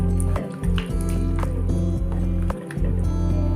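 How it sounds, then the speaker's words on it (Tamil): Country chicken is stirred with added water in a cooking pot, giving wet sloshing and squishing sounds with soft scrapes, irregular and close, over a low steady hum. "இதை வந்து நல்லா தண்ணி சேர்த்ததுக்கப்புறம் வந்து நல்லா மிக்ஸ் பண்ணி விட்டுக்கோங்க"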